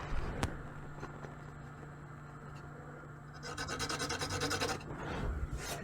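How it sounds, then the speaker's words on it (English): A pencil marks rafters across wood in a farmhouse build, with faint rubbing strokes followed by a louder burst of scratchy scraping near the end. "I can just go across here and I can mark my rafters"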